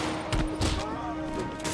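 Gunfire in the video game Marvel's Spider-Man Remastered, a few quick bursts of shots in a busy mix with voices talking, moderately loud.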